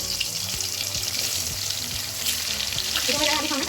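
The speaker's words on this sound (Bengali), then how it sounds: "তেলটা আমার গরম হয়ে গেছে, এর মধ্যে আমি এবারে আলুগুলো ফ্রাই করে নেব।" Potato pieces rubbed with salt and turmeric sizzle steadily in hot oil, a dense continuous crackle with occasional stirring knocks, close and fairly loud throughout.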